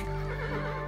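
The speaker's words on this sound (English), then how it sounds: "Oh, horse, stop being out of breath." Horse neighing in the video game Kingdom, a single short whinny with breathy harmonic tones that sounds close and clear, with no talking over it.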